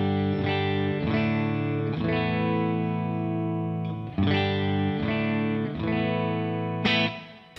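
A Two-Rock Classic Reverb Signature amp in its Fender blackface-style clean setting rings out with an electric guitar's repeated strummed chords, bright and full with slight chorus-like shimmer, no voices.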